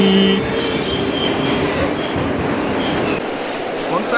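A New York City subway L train rumbles along the tracks in a steady loud roar with rattling wheels, a brief high tone at the start and the noise easing slightly toward the end.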